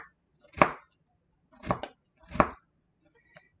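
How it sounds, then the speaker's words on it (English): A knife cuts soft tofu on a board in three distinct, separated chops followed by a faint fourth tap, close and quiet against a near-silent background. "then we're going to cut them in slices"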